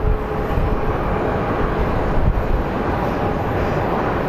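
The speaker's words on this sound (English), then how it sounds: "we have an American Airlines A321 coming from DCA, from Washington." An American Airlines A321 airliner lands at Phoenix Sky Harbor, a continuous broad engine roar that stays steady and fairly loud throughout, with no voices over it.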